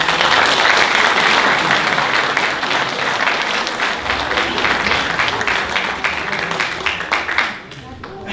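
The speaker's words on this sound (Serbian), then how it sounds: "Zato molim vas jedan najveći aplauz." A concert audience at a Christmas concert breaks into loud, sustained applause with dense clapping throughout. It tapers off at the very end.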